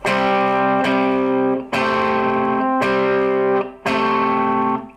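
An electric guitar strums distorted power chords of a riff, with four or five loud sustained chord hits at a slow, even pace, each ringing out before the next.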